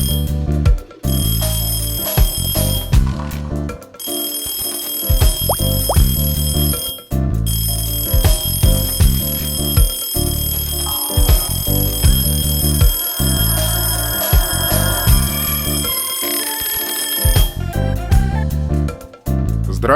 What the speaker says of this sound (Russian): а тут звонок в дверь